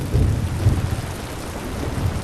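Thunderstorm at night at sea in a pirate film scene, with low rumbling thunder and steady heavy rain filling the whole stretch, dense and continuous with no speech.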